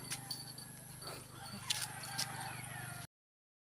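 Water buffalo hooves clop on hard ground at a slow walking pace in the countryside, with a low steady hum and some faint chatter in the background.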